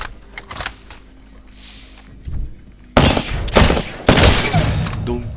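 Heavy weapon gunfire in the Apex Legends video game, with a few scattered shots early on, then two loud sustained automatic bursts separated by a short gap.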